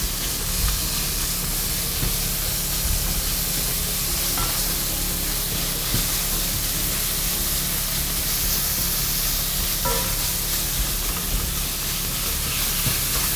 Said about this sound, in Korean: 선생님이 잘게 이렇게 찢어주듯이 볶아주고 계십니다